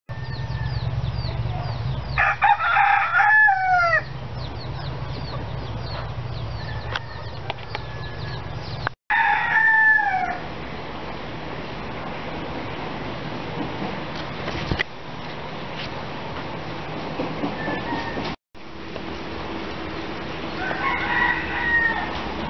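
Roosters crow repeatedly and chickens cluck at a wildlife rescue center, the calls loud and close, mixed with other birds and a steady background hum.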